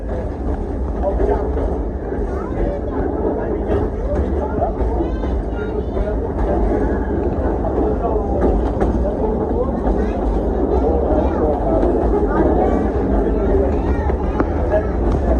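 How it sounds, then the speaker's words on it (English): A 1920 Hilcrest steam engine train runs through temperate rainforest with a steady, dense rumble that never lets up, while a voice talks over it. "The engine we're using today is a 1920 Hilcrest steam engine."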